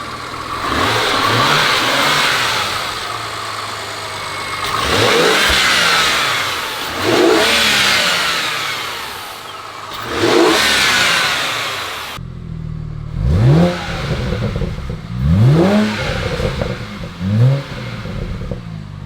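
A BMW 335i engine with an upgraded intercooler revs repeatedly, each blip rising and falling in pitch over a steady idle, heard close from the rear of the car with several sharp revs toward the end.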